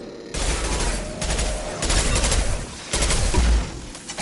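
Loud, close gunfire from the video game Mass Effect 2, coming as several dense rattling bursts with short gaps between them, with booming impacts near the end and no talking.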